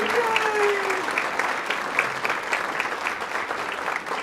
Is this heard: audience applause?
yes